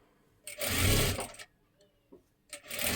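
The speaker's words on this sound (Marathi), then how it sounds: "आता ह्याच्यावरती पुन्हा एकदा आपल्याला एक डबल शिलाई देऊन घ्यायची आहे." A sewing machine stitches a double seam on a blouse katori in two short close bursts of rapid whirring, with a quiet pause between them.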